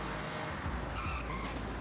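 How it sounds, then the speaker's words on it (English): An Aston Martin DB7 GT in Forza Horizon 6 breaking traction at the rear, a short burst of tyre scrub and engine roar, dense and loud, heard alone without talk. "those rear tires are definitely not gripping up as much as you'd hope"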